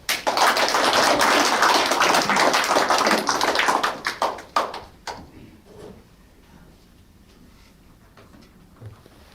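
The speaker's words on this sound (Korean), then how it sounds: "우리 박수 한번 칩시다" Audience applause at a book launch: a loud, dense burst of clapping for about four seconds that thins into a few scattered claps and then fades to quiet room tone.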